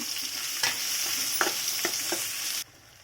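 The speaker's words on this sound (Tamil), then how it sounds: "ஒரு பெரிய வெங்காயத்தை கட் பண்ணி வச்சுருக்கேன் அதையும் சேர்த்து வதக்கணும்" Chopped onion sautéing with garlic, green chilli and curry leaves in hot oil, a close sizzle broken by several scraping stirs before it cuts off abruptly near the end.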